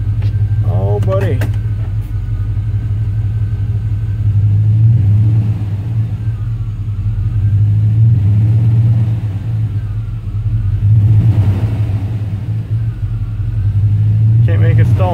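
A vehicle engine with a 4L60E transmission idles in gear without stalling, a steady deep rumble that swells and eases a few times, with brief mechanical whines and rattles near the start and end.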